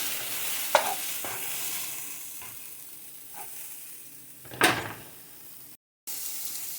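Peppers sauté in a pan for a vegan breakfast burrito, a quiet sizzle broken by a few sharp scraping or knocking strokes and a louder clatter near the end.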